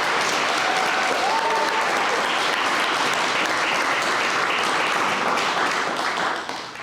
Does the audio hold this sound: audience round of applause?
yes